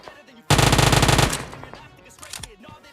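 A loud burst of rapid automatic gunfire from the PUBG Mobile video game lasts under a second. It fades into scattered quieter shots and echoes.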